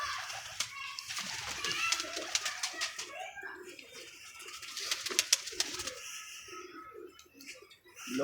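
Pigeons coo in a loft of red-eyed birds, soft throaty murmurs repeated close by, joined by faint chirps and wing rustles, with a voice talking in the background.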